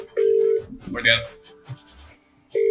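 A phone on speaker places a call, with two sustained ringback tones separated by a pause. A voice speaks briefly between the tones.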